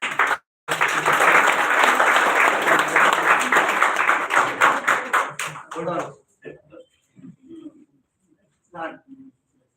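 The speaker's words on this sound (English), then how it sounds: "Gen 2 is going to give a big round of applause" A college debate audience bursts into a big round of applause that runs steadily for about six seconds, then breaks off into a few scattered claps and faint stray noises.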